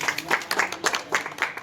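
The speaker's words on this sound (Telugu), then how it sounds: "చప్పట్లు కొట్టాలి చివరిగా." Brief, close crowd applause at a village prize-giving ceremony in Krishnampalle, Kadapa district, with bursts of handclaps in a quick, uneven rhythm over about two seconds.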